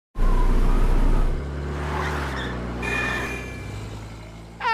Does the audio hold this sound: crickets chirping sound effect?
no